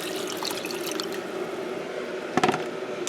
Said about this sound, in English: We're going to add an equal amount of water.